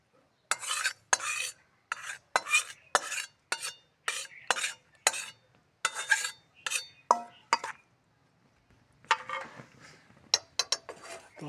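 A spoon scrapes roasted flour for sukhadi out of a pot with a quick series of sharp, rhythmic strokes. After a short pause, a few softer scrapes follow.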